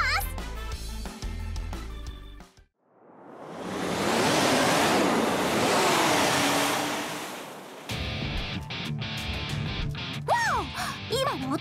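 A jet watercraft from Kandagawa Jet Girls rushes past on the California coast, a broad watery roar that swells, peaks and drops away abruptly, set between stretches of game music and effects.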